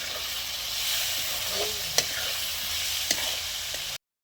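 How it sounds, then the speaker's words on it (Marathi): Tomato chutney being stir-fried with crushed peanuts and a little coriander, a steady close sizzle throughout with a few sharp scrapes of the spoon against the pan, no talking. "आता आपण यामध्ये थोडंसं शेंगदाण्याचं कूट टाकणार आहोत आणि चांगलं परतून घेणार आहोत."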